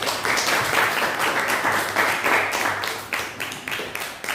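A classroom of students claps together for a classmate, a dense, steady patter of hand claps lasting a few seconds with no talking.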